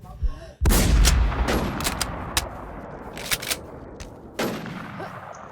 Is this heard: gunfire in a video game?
yes